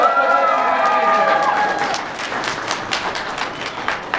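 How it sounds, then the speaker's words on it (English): Fans applaud at a Five Nights at Freddy's panel at Salt Lake Comic Con, with a crowd clapping and murmuring that builds after a voice fades out at the start. "Round of applause for fans."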